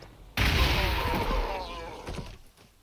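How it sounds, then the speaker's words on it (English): Frag grenades going off in the Warhammer 40k strategy game Gladius Relics of War, a sudden loud blast rolling into a crackling, rumbling spread of explosions that fades, with a smaller thump near the end. "why don't you use your frag grenades?"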